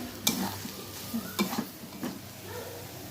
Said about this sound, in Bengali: ধনেপাতা কুচি দিয়ে এই আর 1-2 মিনিট নাড়লেই রেডি হয়ে যাবে আমাদের লোটে মাছের ঝুড়ি